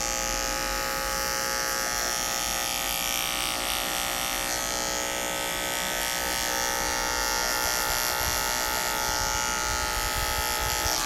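Electric shaver shaving hair down for a skin fade, a loud continuous close buzzing hum held steady without a break, no talking.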